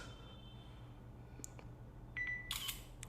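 A soft beep is followed by a quick electronic shutter click from a Zenfone 2 Laser phone camera, close and brief, in an otherwise quiet room.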